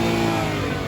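2015 Ford Mustang GT 5.0 V8, 430 horsepower, revving: a short, loud burst of steady engine roar with a rich low rumble, cut off in under a second.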